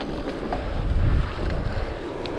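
Strong wind buffeting the microphone during a cliff-top bicycle ride at sunrise beside stormy seas, a loud continuous low rumbling roar with gusty swells and no voices.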